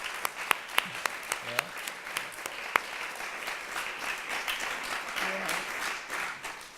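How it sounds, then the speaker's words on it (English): Crowd applause at a conference conversation event: steady clapping from many hands for several seconds, with a few sharp nearby claps standing out, and a low voice or two faintly underneath. "an applause."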